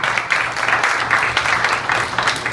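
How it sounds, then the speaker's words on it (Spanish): A church congregation applauds, a dense steady wash of clapping from many hands that swells in soft pulses without pause. "Vamos a darle un aplauso al Señor."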